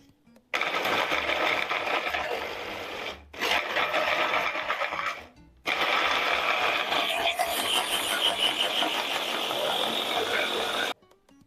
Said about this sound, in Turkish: Hemen iyice rondodan çekiyorum.